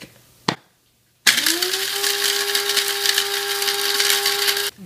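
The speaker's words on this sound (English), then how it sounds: "add half a teaspoon anise seeds, half a teaspoon fennel seeds, and let's mix this all together" Anise seeds and fennel seeds whirring in an electric grinder or blender for a Czech spice cake, a brief knock first, then a loud steady motor drone that holds for several seconds, close and alone.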